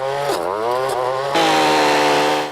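Chainsaw used for trail maintenance on the Bruce Trail, running loud and close, revving in a rising and falling whine before settling into a steady high-pitched drone, with no talking.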